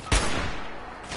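Video game gunfire from Fallout 76: one sharp shot bursting out at the start, a fainter follow-up and a brief tail near the end, fairly quiet overall.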